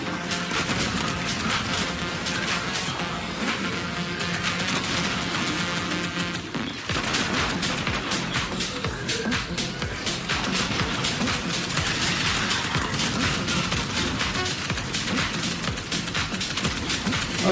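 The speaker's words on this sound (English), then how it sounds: "Who's shooting at me?" Dense rapid gunfire and impacts from the Destiny 2 video game, a continuous barrage of shots and crashes that runs loud and unbroken for the whole stretch, with no talking.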